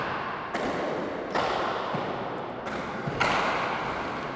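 A hardball handball slaps against the wall in a senior singles final at an alley, a few sharp thuds spaced about a second apart over steady crowd and room noise.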